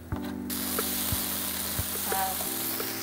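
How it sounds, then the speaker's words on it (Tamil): Ginger and garlic sauté in a pan for Chettinad chicken, giving a steady close sizzle with a few soft clinks from stirring over a low hum. "அந்த இஞ்சி பூண்டு மட்டும் சேர்த்து நல்லா வதக்கி பாருங்களேன்"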